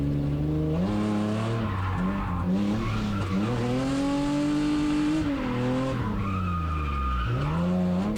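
A Hyundai Genesis Coupe with a stock steering angle drifting, tires skidding in a long continuous squeal that bends up and down in pitch over a steady engine drone, loud and close, no voices.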